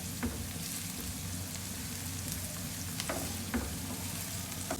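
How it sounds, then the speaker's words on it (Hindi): Onions frying lightly in a pan, an even, soft sizzle with a few faint scrapes and taps of stirring. "प्याज हमारे हल्के से फ्राई हो गए हैं"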